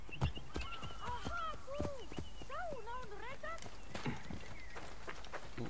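Horse hooves clip-clopping in the video game Assassin's Creed Origins, a quick irregular patter of hoofbeats under someone talking, with soft game ambience and tonal chirps in the background.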